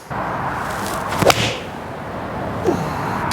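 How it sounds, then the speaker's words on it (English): A golf club whooshes through a swing and a Callaway Apex MB 6 iron strikes the ball with a sharp click, then a second swish follows against steady outdoor background noise. "So let's get underway and we'll hit this 6 iron."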